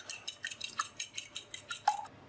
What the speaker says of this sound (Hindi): एग को मिक्स कर लेंगे।